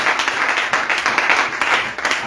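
Church congregation applauding during a service, dense continuous clapping from many hands, loud and close, with voices mixed in underneath.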